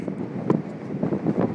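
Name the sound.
strong wind blowing during a wind storm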